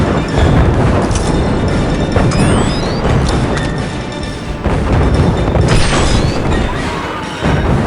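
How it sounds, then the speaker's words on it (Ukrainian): Rocket cannon blasts and booming explosions roar loudly and almost without pause in the Star Wars: Republic Commando video game, with crashes layered over a dense battle din. "62-й сідає за ракетну гармату. Давай 62. Зроби бум-бум."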